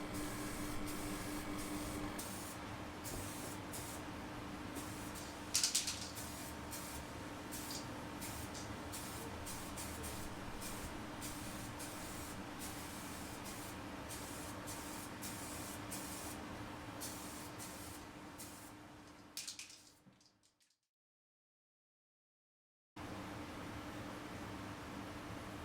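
Spray paint being applied to a Honda CRM250AR motorcycle frame and subframe, a long steady hiss of aerosol with short bursts, ending in abrupt silence before the hiss resumes.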